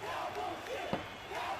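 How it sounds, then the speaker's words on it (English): Crowd at a DCWF independent wrestling event cheering on a wrestler during a title match, a steady mid-distance roar of voices with a brief louder swell in the middle. "The crowd get behind Drewski here."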